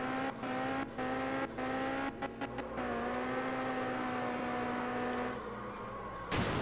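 A car drifting in the video game Absolute Drift, with a loud sustained engine drone and rising pitch, repeatedly cut by brief gaps and a sharp burst near the end, with no talking.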